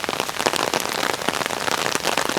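Heavy rain pours down steadily outdoors on a rainy day, a dense, unbroken hiss of drops striking surfaces close by, loud and continuous with no voices.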